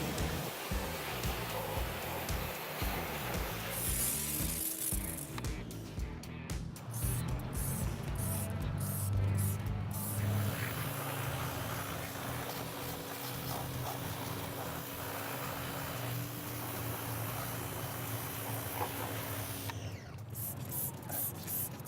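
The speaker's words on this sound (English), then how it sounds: "come back around and spray it off with your pressure washer" A pressure washer sprays a bike steadily with a loud, continuous hiss and a low motor hum, running without a break.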